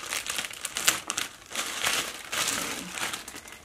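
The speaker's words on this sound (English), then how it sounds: "So let's unwrap this one." Crinkly plastic packaging rustles and crumples in bursts as a Coach bag is unwrapped close up, quiet and irregular.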